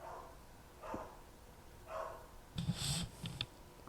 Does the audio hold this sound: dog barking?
yes